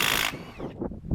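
Loosening a bolt on a 1967–1977 Ford Dana 60 rear axle cap, with a short burst of tool noise followed by light metallic clicks and knocks from the work, close and moderately loud.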